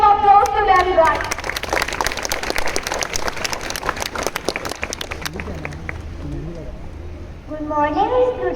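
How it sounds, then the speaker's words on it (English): Students at a school assembly for a pre-Teachers' Day celebration burst into dense, lively clapping that swells for several seconds. Voices speak just before and after the applause. "We give a big round of applause to them, guys."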